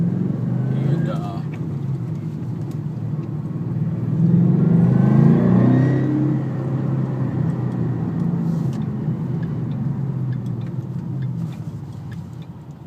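2012 Ford Mustang GT 5.0 pulling onto a highway, its engine drone rising through a surge of acceleration and then settling into a steady cruising rumble, heard from inside the car beneath a talking driver.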